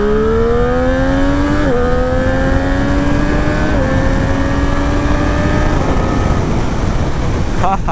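A 2023 Triumph Street Triple RS motorcycle accelerates hard, its loud, close engine note climbing in pitch through several quick gear changes before easing off near the end.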